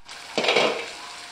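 Masala for dhaba-style bhindi masala sizzles in a pan, a short burst of frying and stirring that swells suddenly and then fades, with a faint clink of utensils.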